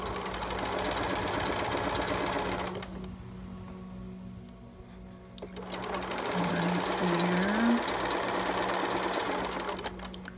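A sewing machine runs steadily, topstitching velcro onto a tiny preemie shirt, with a pause in the middle before the stitching resumes at close range.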